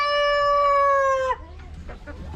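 A rooster among backyard chickens gives one loud, close crow with a long sustained call, then breaks off into quieter clucking and scattered farmyard noise.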